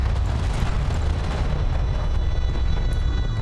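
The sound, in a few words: explosion of strike craft in video game Homeworld Deserts of Kharak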